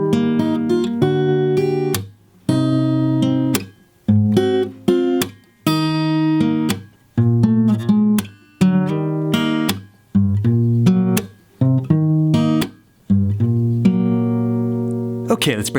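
Guitar with a capo slowly picking the intro of the Toy Story theme, clear ringing plucked chords and notes in short phrases separated by brief gaps, close and alone.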